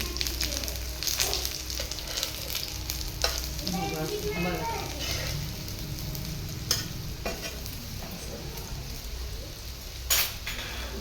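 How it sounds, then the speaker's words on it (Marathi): Spinach vadi frying in oil on low heat, with a continuous close sizzle and bubbling, light stirring throughout and a few sharp clinks of utensils against the pan. "अशा कमी गॅसवर तळून घ्यायच्या सगळ्या एकदम मस्त फ्राय होते"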